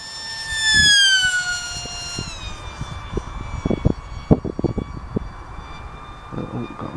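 The slightly overpowered electric motor of a WingWing Z84 RC plane flying at high speed gives a piercing whine that drops in pitch as it passes, then carries on as a fainter, steady tone under close wind buffeting and handling noise.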